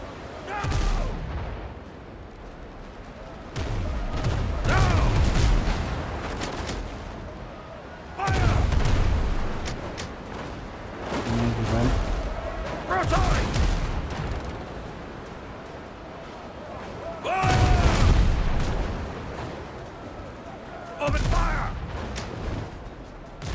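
Ship broadside cannon fire in the pirate video game Windrose, repeated heavy booming volleys in loud bursts separated by quieter stretches, with rumbling aftermath and a voice talking between salvos.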